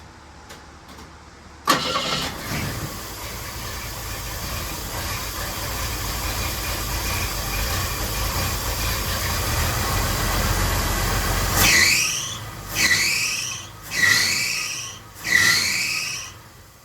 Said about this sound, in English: So hopefully it doesn't rev to the moon this time when I start it.